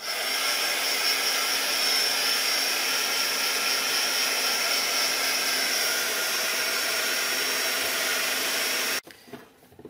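A hair dryer runs steadily and loudly up close while drying a handmade scrappy angel craft ornament, a constant airy whir that cuts off abruptly near the end, leaving quiet room sound.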